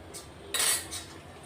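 Mustard seeds tipped into hot oil in a pan, with a brief hissing crackle that rises suddenly and fades within a second, close and fairly quiet.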